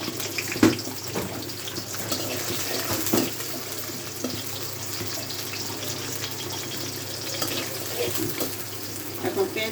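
Onions hit a hot pan for a shing fish curry with cauliflower and potato, giving a steady sizzling hiss broken by a few sharp clatters of utensil or pan.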